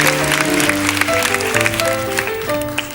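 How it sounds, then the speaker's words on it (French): A TV studio audience at a 1977 French fan show applauds loudly as a contestant walks onto the stage. The steady clapping continues for the whole stretch over band music. "qui arrive sur la scène et qu'on applaudit très fort"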